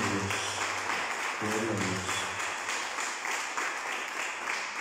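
Congregation applauding in a church service, a steady wash of clapping running throughout with faint voices and a low tonal hum underneath.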